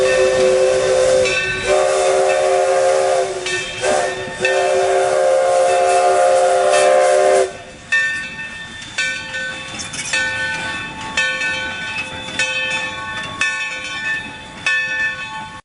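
Valley 3025, a Mikado steam locomotive, runs in reverse toward Essex Station, sounding a loud chord whistle in long blasts. Clanking rolling stock and steady engine rumble continue after the whistle stops.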